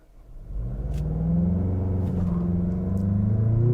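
A 2023 Mazda CX-50 SUV with a 6-speed automatic, in sport mode, accelerates hard from 0 to 60; the engine rumble builds and climbs steadily in pitch, heard close from inside the cabin.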